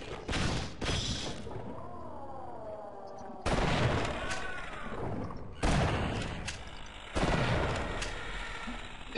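Shots fired into the air in the Half-Life Source video game crack out as four heavy bursts several seconds apart, each trailing a noisy echoing tail over faint ambient game sounds.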